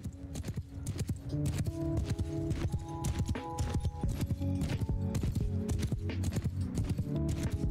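Horse hooves gallop in the video game Mount and Blade Bannerlord, a steady, rapid clip-clop running loudly throughout against sustained tonal background sounds.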